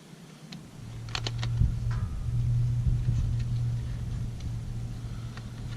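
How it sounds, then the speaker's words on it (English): A truck passes along a rural road near a pipeline, heard from a hunting tower as a faint, steady low engine drone. Scattered light ticks and clicks sit close by. "Sounds like a truck's coming down the road"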